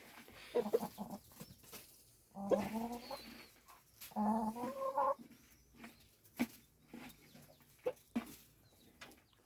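Chickens cluck and squawk close by in short bursts, with scattered pecking and rustling noises in a village yard.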